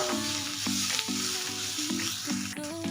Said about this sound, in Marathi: मसाला आपला छान असा तेलामध्ये ना भाजून झालेला आहे